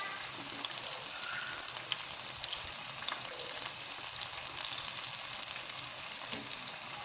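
Vegetable pakora of eggplant, potato, green onion, green chili and coriander frying in hot oil, a steady crackling sizzle that holds at an even level throughout, close and alone with no talk.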